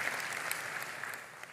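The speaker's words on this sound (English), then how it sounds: "you can clap for that" Audience applause at a Sunday church service, a steady, even wash of clapping throughout, close and moderately loud with no voices on top.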